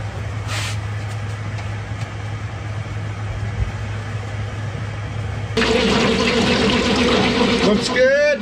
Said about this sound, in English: go ahead and start the motor